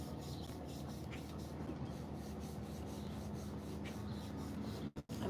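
Palms rubbing together during a yoga hand massage outdoors by a marina, a continuous soft friction hiss that runs steadily and close, faint overall, with a brief dropout near the end.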